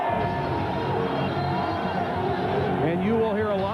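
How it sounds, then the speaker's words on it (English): A sellout crowd at Qualcomm Stadium in San Diego for a Raiders–Chargers game roars in a continuous, loud wash of cheering and babble, with a commentator talking over it. "you will hear a lot of cheers for the Raiders tonight"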